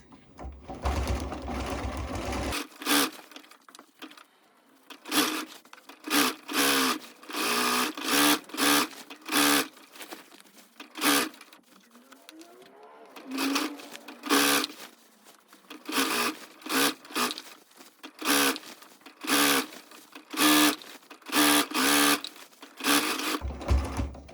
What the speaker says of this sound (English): we're just going to sew all the way around until we get back to where we started